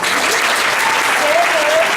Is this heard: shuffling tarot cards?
no